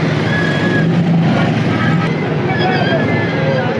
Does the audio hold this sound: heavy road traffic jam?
yes